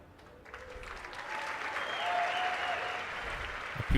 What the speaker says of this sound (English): People weren't sure if they should clap or not there.